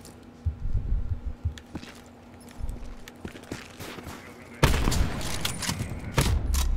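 Video game gunfire in a one-on-one sniping match: scattered sharp shots and thuds, loud and close, with a dense burst of noisy action in the final seconds.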